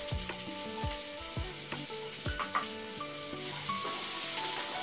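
A quick evening snack fries in a pan over a low gas flame, a soft continuous sizzle punctuated by several sharp scraping stirs, with no talking.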